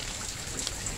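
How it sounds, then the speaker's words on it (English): Light rain just beginning to fall outdoors after a long dry spell, a soft steady patter of drops with a few brighter ticks close by, fairly quiet and with no voices. "just starting to rain."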